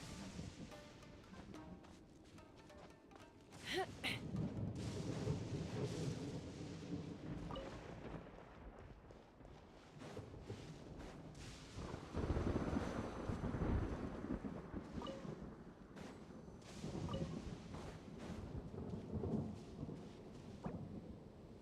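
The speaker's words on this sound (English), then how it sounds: "I almost got struck by lightning." Thunder from a lightning storm in the game Genshin Impact rolls in long, heavy rumbles, one swelling early and a louder crash building mid-way, over a constant rainy, windy wash with no talking.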